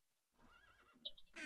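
A horse in a video game gives a short whinny, clear and close, with a faint clip-clop of hooves and no talking.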